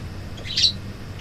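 Pet birds chirp briefly in the background of an indoor room, a short faint high twitter over low room hum.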